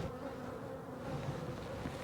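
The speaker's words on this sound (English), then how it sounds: "This is your hive, Zoe. These are your bees." Honeybees at a backyard hive after feeding buzz in a steady, close, continuous drone with no voices.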